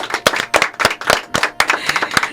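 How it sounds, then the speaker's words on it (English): A small audience claps at a live music awards preview show, a brisk run of sharp, distinct handclaps close by, uneven in rhythm and with no talking. "how about a round of applause for Listen Locally"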